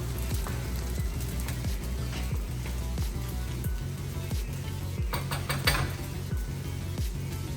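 Frozen peas and fresh carrots hit hot frying rice in a pan, a loud close sizzle with repeated clattering scrapes and stirring knocks, no voices.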